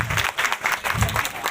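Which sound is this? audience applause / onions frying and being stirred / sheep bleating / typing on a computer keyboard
audience applause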